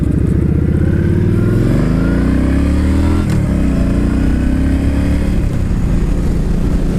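A red Yamaha Stryker factory chopper motorcycle engine revs up close and loud, the pitch climbing then settling into a steady throbbing idle, with no talk.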